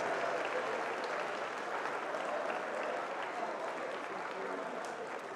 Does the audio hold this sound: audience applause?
yes